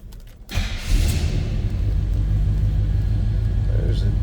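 A 1979 Chevrolet K1500 truck engine cranks and catches on a cold start, then settles into a loud, steady, close rumbling idle.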